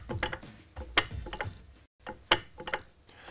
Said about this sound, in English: Here we have a conventional bolt assembled into a joint. This is how it sounds when there's slack in the system.